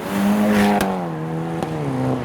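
A modified car launches hard from a standstill on a road lined with custom cars, its engine rising steadily in pitch, with a sharp gear-change crack and a second pop, loud and close.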